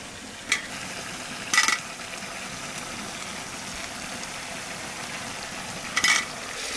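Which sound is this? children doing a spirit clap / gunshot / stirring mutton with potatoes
stirring mutton with potatoes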